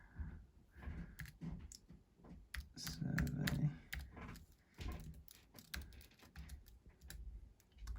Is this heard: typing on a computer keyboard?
yes